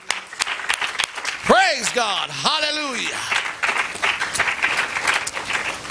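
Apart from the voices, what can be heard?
church congregation clapping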